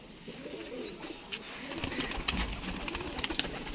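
Teddy pigeons coo softly on a rooftop loft, low murmuring calls repeating under rustling and wing flutters, fairly close with steady background noise.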